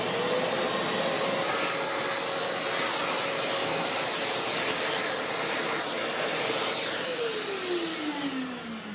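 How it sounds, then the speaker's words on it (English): Shop vacuum fitted with a separator sucking up wood shavings and larger debris after hand planing, a loud continuous roaring whine held steady with a shifting pitch toward the end. "I can just come through and suck up all those feathers and larger debris and not have to worry about it because I know it's going to go in the separator"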